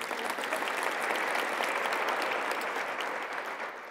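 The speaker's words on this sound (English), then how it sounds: "And yes, you can clap." Audience applause at a public talk in Washington, D.C., a steady, dense wash of many hands clapping that holds even for several seconds and tapers slightly at the end, with no voices.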